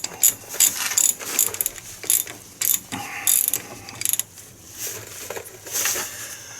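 A ratchet tightens brake caliper bolts on a 2014 GMC Sierra, making quick clicking bursts in short runs close by, with brief speech.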